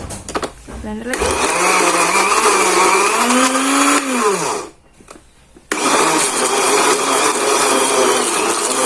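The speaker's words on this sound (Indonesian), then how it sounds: "kita ulangin terus sampai habis, kita blender sampai habis." Close, loud whirring of a small blender chopping chicken for dim sum, running in long pulses with a brief pause where the motor winds down before starting again; a voice speaks over it.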